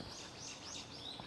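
Faint birdsong trills and chirps in brief rising and falling phrases over a soft hiss of background noise.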